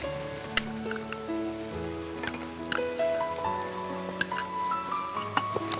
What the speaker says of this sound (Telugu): సో పోపు వేసండి, ఆయిల్ హీట్ అయింది.